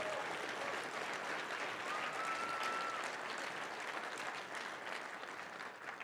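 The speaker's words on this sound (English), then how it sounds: "Please give them a big round of applause." A conference audience at a closing session breaks into sustained applause, a dense, even wash of clapping from a large crowd that holds steady for several seconds before tapering slightly at the end.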